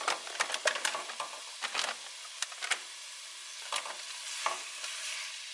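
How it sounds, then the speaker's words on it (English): A quarter kilo of ground beef being stirred in a pan for ragu sauce: irregular scraping and clacking strokes over a soft, faint sizzle, close by, with no voices. "This one, 1/4 kilo of ground beef. We will mix there."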